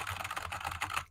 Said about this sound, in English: So I would type, right? Like my keyboard's pretty loud.